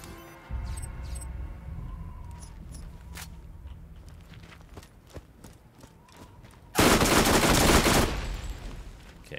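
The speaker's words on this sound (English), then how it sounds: "SMGs are freaking loud in this game" Loud SMG fire bursts out in the shooter game Borderlands on PC, a dense sustained volley near the end, with scattered thuds, footsteps and smaller shots before it.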